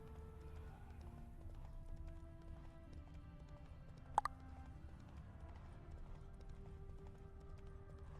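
Roach the horse trots and gallops in The Witcher 3, its steady game hoofbeats faint under background music, with one sharp short click near the middle.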